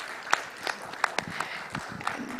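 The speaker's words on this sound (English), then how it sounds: "give a round of applause to our panelists for them" A small audience at a solar-financing panel event claps for the panelists, a faint, sparse, uneven patter of hands, fairly distant and sounding like only a handful of people.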